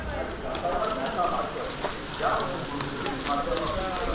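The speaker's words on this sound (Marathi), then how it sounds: "पाऊस एकदम जोरदार पडतोय" Heavy rain pours down in a steady, dense hiss at the Jejuri fort temple in Maharashtra, with faint voices in the background.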